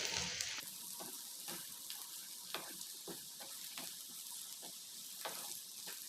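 A potato and bean stir-fry with chili and pepper powder is stirred in a hot pan, a continuous sizzle broken by repeated scraping strokes of a spoon at an irregular rhythm, close and alone.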